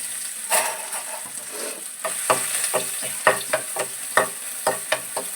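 Chopped garlic fries with cumin in a pan, giving a steady sizzle broken by repeated scraping strokes as it is stirred, close and moderately loud, with no talk.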